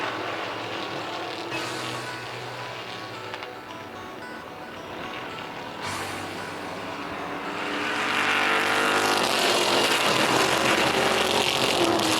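Vintage race cars, among them a 1967 Chevelle, thunder around a track, their engines droning and rising as cars pass, building to a loud, sustained roar toward the end.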